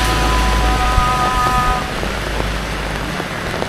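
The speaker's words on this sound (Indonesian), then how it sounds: "hujannya sendiri tadi itu sempat petir ya teman-teman ya hujan petir" Steady rain falls at Dieng during an evening thunderstorm, a dense continuous patter on surfaces close by with a low background rumble and a faint tonal hum fading out early on.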